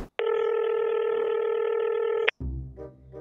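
Telephone dialing to place a call: a single loud, steady electronic tone held for about two seconds, then cut off abruptly, followed by a short burst of low, muffled sound.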